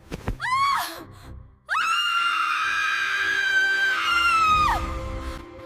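A woman screams out of a nightmare in an animated Hindi horror story: a short rising shriek, a brief pause, then a long sustained high scream that holds for several seconds before cutting off, loud and close.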